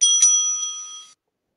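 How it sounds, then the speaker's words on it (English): A timekeeper's bell rings once at an English debate competition final in Kedah, a single bright metallic ding with a quick double strike that rings on for about a second before cutting off into silence. "The timekeeper will ring the bell once"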